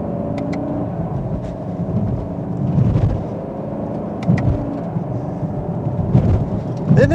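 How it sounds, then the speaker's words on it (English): A 2022 Chevy Camaro 1SS in manual mode pulls under throttle with paddle shifts, its engine a steady low rumble heard from inside the cabin, rising and surging slightly with no talking. "I want to test out how responsive these paddles are, so if we give some gas,"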